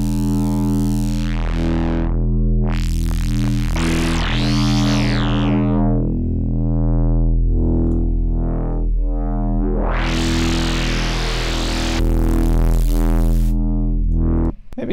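A distorted sub bass synth patch built in Minimal Audio Current 2.0 plays sustained, heavy low notes with harmonic-rich sweeps and bursts of gritty noise, loud and continuous with no talk.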